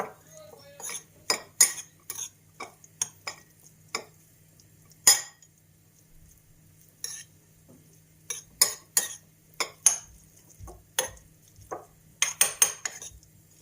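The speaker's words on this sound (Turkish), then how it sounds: "Bu şekilde karıştırdıktan sonra diğerini de karıştıracağız." Utensils stirring Korean ramen noodles coated in soy sauce and chili sauce, a series of scattered metallic clinks and scrapes against the bowl, close and fairly crisp, with no talk.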